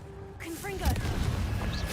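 A Confringo blasting curse goes off in Hogwarts Legacy, a sharp burst followed by a couple of quick booming impacts and a crackling tail, mixed with brief whooshing spell effects and some voice.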